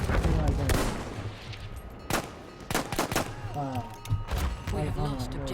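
Anti-tank rounds fired in Battlefield 1: several sharp, loud shots and heavy thumps in an uneven burst, mixed with other battle noise and a talking voice over the top.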